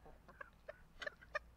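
Backyard chickens with a rooster in the flock give soft, scattered clucks at close range, quiet and irregular, over faint background noise.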